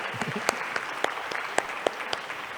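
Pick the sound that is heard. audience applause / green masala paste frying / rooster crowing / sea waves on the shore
audience applause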